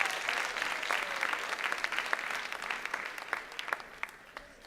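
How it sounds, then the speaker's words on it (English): Graduation audience applauding, a dense wash of many hands clapping that stays steady and moderately loud, thinning into scattered individual claps toward the end. "Give yourself a round of applause."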